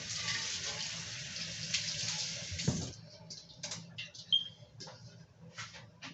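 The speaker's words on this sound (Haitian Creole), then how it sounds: "Okay, let me wash my hands." Tap water running at a sink for a handwash, a steady broadband rush for about three seconds, then broken splashes and drips as hands move under the stream, close and moderately loud.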